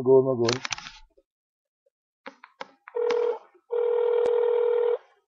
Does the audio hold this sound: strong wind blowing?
no